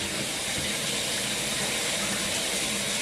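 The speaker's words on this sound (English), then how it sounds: "And rinse that off real quick." Water rinsing a Jack Russell Terrier during a bath, a steady close hiss of running spray with no pauses or talk.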